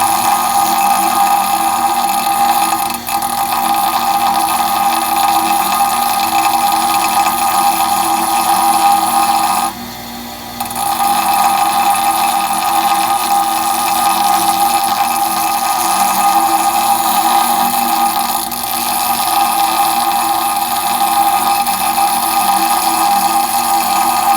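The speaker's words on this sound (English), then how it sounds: "Solenoid on the grinder goes round and round." A VW 09G transmission valve body solenoid is ground on a spinning grinder, producing a steady, loud mechanical whine with a constant hum that dips briefly once midway.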